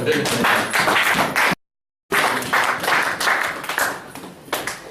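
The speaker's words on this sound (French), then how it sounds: "Acclamation pour le Seigneur." Church congregation clapping and acclaiming the Lord during a sermon, loud close claps and voices in an energetic burst, broken by a short dead gap before resuming with cheering and talk.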